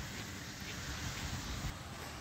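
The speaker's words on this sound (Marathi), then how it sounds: "खरं पावसाचं प्रमाण थोडं जास्तच वाढलं आहे आता" Rain falls outdoors in America as a steady, soft, even hiss that stays faint and unbroken throughout, with no voices.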